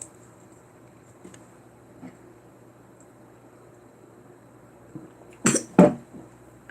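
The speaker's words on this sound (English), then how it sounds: "leave it to me to try to cough on drinking water" After choking on drinking water, a person in a quiet room gives a few faint throat sounds and then two sharp, close coughs near the end.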